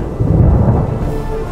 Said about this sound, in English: a lot stronger rain came and some thunder